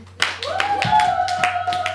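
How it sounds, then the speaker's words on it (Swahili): A church congregation claps hands for Jesus in a steady, quick rhythm, the crisp claps repeating evenly over a sustained hum and a voice in the room. "Pigia Yesu makofi."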